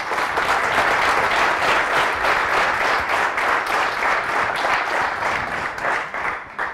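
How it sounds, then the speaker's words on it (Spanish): A seated conference audience applauds warmly in a hall, a dense sustained wash of clapping that holds steady for several seconds before tapering slightly at the end. "me gustaría pediros un aplauso para ella"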